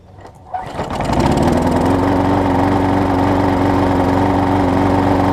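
A Husqvarna lawn mower with an aluminum deck cranks and catches, then settles into a loud, steady close-up engine drone that keeps running without a break.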